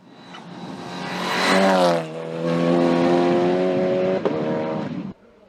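An Audi RS3 LMS TCR race car climbs a hill in competition, its engine revving hard and rising in pitch as it nears, then holding a loud, steady high-rev tone through a gear change before cutting off abruptly.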